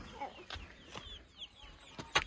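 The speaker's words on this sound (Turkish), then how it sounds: "Bak burada civcivleri gördün mü?" Chicks chirp in soft, high peeps scattered across the moment in a village, ending in one sharper, louder cheep nearby, with faint clucking underneath.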